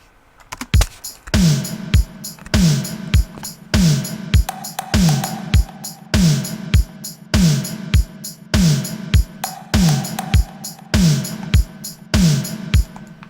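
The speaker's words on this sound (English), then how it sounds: "So then together the drums sound like this." A processed drum loop repeats steadily with punchy kicks and crisp hits, treated with EQ cutting lows and some highs and boosting the low mids, plus delay and a wide stereo effect, loud and without talk.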